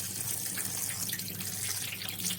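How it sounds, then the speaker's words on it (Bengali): Cold tap water runs steadily over boiled taro stolons in a basket, a close, continuous splashing rush with no talking. "ঝুড়িতে ঢেলে নিয়েছি, নিয়ে খানিকটা ঠান্ডা জল দিয়ে ধুয়ে নেব।"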